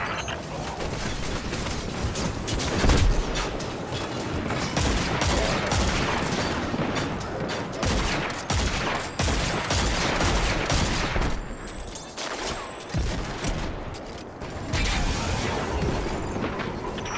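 Heavy Cabal weapons fire in the video game Destiny 2, a dense, continuous barrage of rapid gunfire and explosive ordnance with clanking mechanical rattles, loud and close, sustained with only brief dips throughout.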